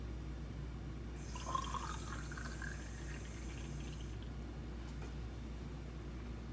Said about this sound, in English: I'm going to fill the rest of it with water.